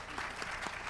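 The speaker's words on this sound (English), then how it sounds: "So another applause, please." Audience at a book launch event at a policy conference hall applauding, a short burst of steady clapping from a moderate crowd, heard alone.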